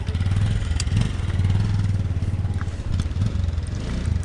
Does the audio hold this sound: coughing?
no